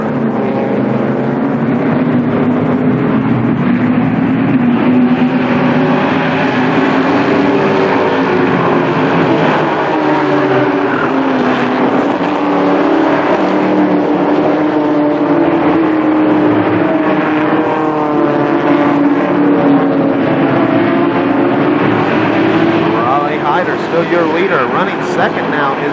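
Race cars at Columbus Motor Speedway roaring continuously through a restart, a dense steady engine drone holding loud for the whole stretch with rising revs, under near-constant commentary from an announcer.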